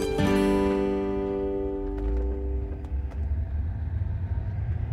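A car pulls away from a train station and drives off, its engine rumbling low and steady with a harmonic whine fading out early and faint clicks over the road noise.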